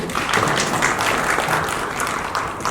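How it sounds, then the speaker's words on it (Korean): Applause from a seminar audience at an annual Goyang Chamber of Commerce economic seminar, a steady dense wash of many hands clapping at once with no break, filling the room. "큰 박수 부탁드립니다"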